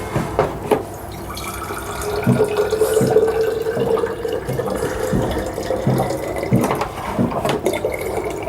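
Water running from a household tap into a container, a steady loud gushing stream with a few clunks and splashes, no one speaking.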